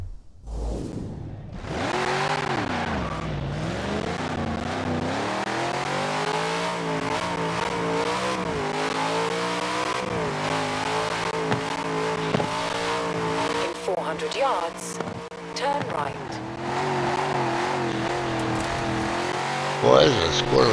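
A car engine in Forza Horizon 4 revs and climbs through gears, loud and steady with rising and falling pitch, tire squeal and a brief spoken comment breaking in near the end.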